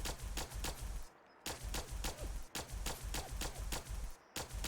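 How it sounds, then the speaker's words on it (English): Rapid repeated gunfire in Fallout 4 from a gun fitted with an accelerator attachment, steady loud shots in quick rhythm with a couple of brief pauses, heavy and sniper-like. "Taking the accelerator attachment will make your gun shoot more like a sniper rifle"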